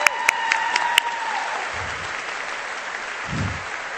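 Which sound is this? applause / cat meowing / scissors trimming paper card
applause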